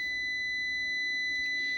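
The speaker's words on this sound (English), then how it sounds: "one would be the damn beep" A steady, high-pitched electronic beep from an MPP Solar LV2424 inverter holds continuously without a break, loud and close.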